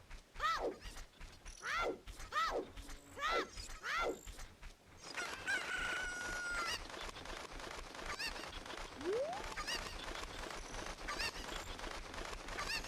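Cucco chickens in Zelda: Ocarina of Time give a run of four or five rising, crowing squawks in quick succession. A steady bed of clicking, whirring game mechanisms follows.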